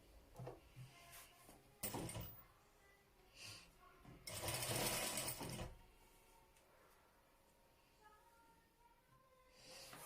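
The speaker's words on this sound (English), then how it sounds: "You carefully also arrange it and continue sewing." A sewing machine stitching the hem of a ruffled baby dress, brief bursts of close whirring, the longest lasting over a second, amid faint handling clicks and rustles.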